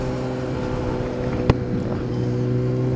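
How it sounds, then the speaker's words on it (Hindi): A Kawasaki Z900 motorcycle being ridden on a road trip from Mukteshwar: a steady engine drone with heavy wind rush, one brief knock midway, and no talk. "अब हम चला रहे हैं Z900"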